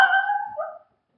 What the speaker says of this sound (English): Sorry, my dog is so rude.